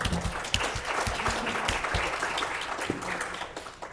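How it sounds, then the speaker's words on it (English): An audience applauds during a panel discussion, a short burst of dense clapping that starts strong and gradually thins out over a few seconds. "Thank you for the applause."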